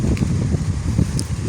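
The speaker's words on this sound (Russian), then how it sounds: "Ветрищи, но зато нет комаров" Strong wind buffeting the microphone on a small island shore during a storm, a low, continuous rumbling roar with gusty fluctuations and no voices.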